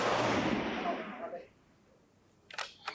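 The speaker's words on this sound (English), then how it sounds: "this rifle's shooting a lot better than the last one" Rifle shots at a shooting match: a loud broadband blast with a long decaying echo fills the first second and a half, then after a quiet gap come two sharp shorter cracks near the end.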